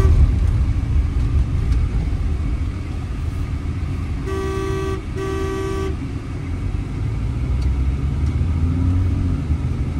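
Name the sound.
Tata Hexa XTA diesel automatic car driving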